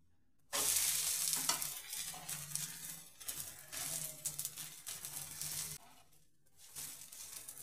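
Ragi and wheat flour attu frying in oil on a pan, a loud close sizzle that bursts in suddenly and then crackles steadily, easing briefly before flaring up again, with no talk.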